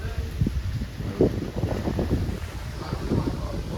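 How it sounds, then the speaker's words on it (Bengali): A cool breeze blows outdoors among laden mango trees, buffeting the microphone with a continuous rumbling wind roar and gusty swells at close range. "হেব্বি সুন্দর হাওয়া বাবু হাওয়া বাইরে হাওয়া খেয়ে যা"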